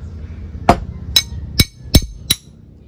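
A carbide glass cutter is tapped against a scored pane of glass, giving five sharp, bright clicks at uneven intervals. They are close and distinct against a quiet background.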